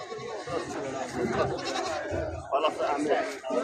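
Goats bleat amid a busy crowd, their calls mixed into steady background chatter and nearby talking.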